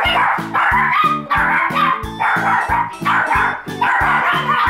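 Several dogs barking loudly and repeatedly in quick, overlapping bursts, close by, with some yipping mixed in.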